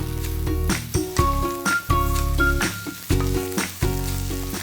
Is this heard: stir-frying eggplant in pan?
yes